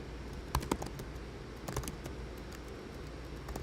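Keys clatter on a computer keyboard in close bursts, with a cluster of sharper strokes early and then a lighter, steady run of typing.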